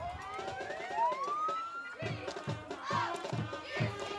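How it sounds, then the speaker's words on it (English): An ambulance siren gives a short wailing blast at a high school varsity football game, its rising and falling tone riding over crowd noise and stadium ambience. "As they blew a little bit of the siren."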